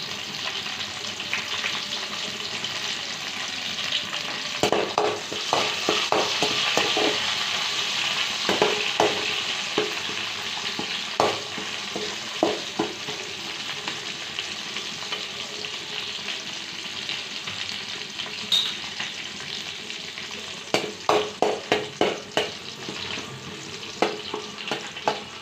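Mustard seeds, green chilies and curry leaves frying in hot oil in a village kitchen, a soft continuous sizzle with scattered sharp crackles and pops, bursts clustering near the end, and no one talking.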